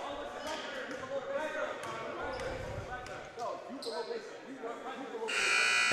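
A long, loud electronic buzzer blares at the end of a quarter in a college basketball game, over an arena crowd murmur and bouncing basketballs.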